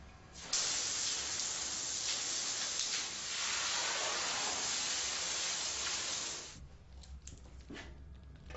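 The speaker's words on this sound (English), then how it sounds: "Apply foam to the floor." A steady, forceful hiss of cleaning foam spraying from a spray gun nozzle onto a floor runs for about six seconds, then cuts off, leaving quiet clicks and faint noise.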